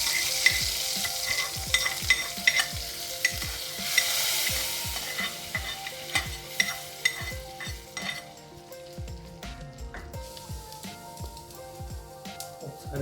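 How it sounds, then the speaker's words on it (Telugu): Sizzling mustard seed tempering poured into baby palak dal and stirred, a busy crackle with repeated spoon and pot clinks that eases into quieter stirring over several seconds, no talk. "దీన్ని మనం పప్పులోకి యాడ్ చేద్దాం."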